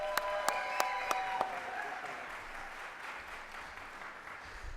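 Audience at a national defense awards ceremony clapping, a few sharp claps at first, then applause spreading into a fairly faint, steady patter that fades slowly.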